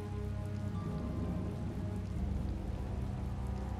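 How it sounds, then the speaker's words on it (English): Rain falls in Tales of Vesperia as a steady, dense patter, even and continuous throughout, with no voices over it. "It's raining after all."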